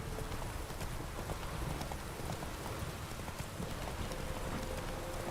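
Roach, the horse in The Witcher, trots with steady hoofbeats that blend into a constant rain-like wash, fairly faint and unbroken with no talking.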